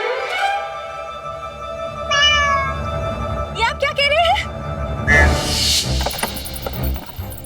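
A cat meows several times, short plaintive cries up close, amid a busy soundtrack with music and background noise in a historical drama scene; people talk around the calls.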